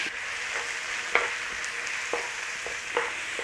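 Garlic and onions sauté in a pan for a one-pot chicken stew, giving a steady close sizzle broken by a few soft stirring scrapes, with no voices.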